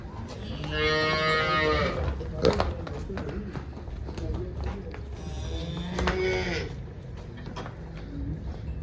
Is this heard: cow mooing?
yes